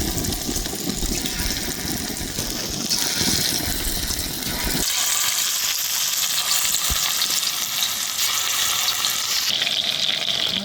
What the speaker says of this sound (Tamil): மீன் பொரிக்கிறதுக்கு செக்கெண்ணெய் சேர்த்துக்கிறேங்க